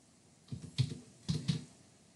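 A computer keyboard is tapped while sketching in CAD, a few soft, close key clicks in two quick pairs over a quiet background.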